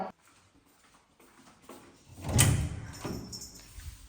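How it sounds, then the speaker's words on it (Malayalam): A door in a home is opened during the evening, giving a single clear clunk and swing near the middle, then a softer rustle of movement in an otherwise quiet room. "ഞാൻ ഏതായാലും വാതിൽ തുറക്കട്ടെ കേട്ടോ."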